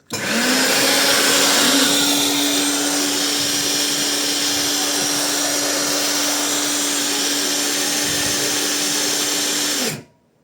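Iron Angel ET1600 L electric cultivator motor running at full speed, a loud steady whine with a constant pitched hum that holds for about ten seconds, then cuts off abruptly as the switch is released.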